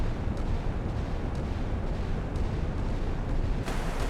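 Distant naval gunfire and shell impacts from enemy ship guns in the Sea Power naval combat video game, a continuous low rumble with a few faint sharper bursts and no talk.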